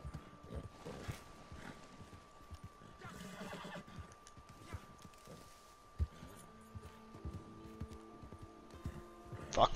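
Horse hooves clip-clopping in Red Dead Online, a rider urging a mount that balks at river water, with a whinny and uneven trotting steps under game ambience and someone talking over it.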